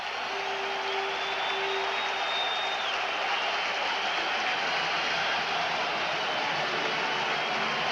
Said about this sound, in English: So Leo Lewis brings the crowd to life here in the Metrodome with a strong return